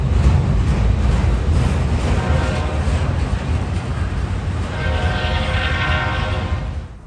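A freight train led by a warbonnet locomotive creeps along the track under speed restrictions, its heavy rumble steady and loud, with a horn sounding toward the end as the rolling noise fades slightly.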